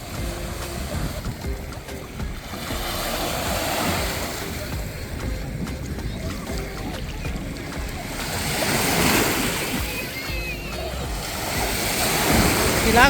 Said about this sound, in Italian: Sto andando verso il mare